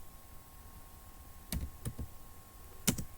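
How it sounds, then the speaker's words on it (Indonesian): Keys tapped on a computer keyboard while entering Python code, a few soft, quiet clicks in two short clusters, close by against a faint electrical hum. "contohnya di sini kita ketikkan di sini"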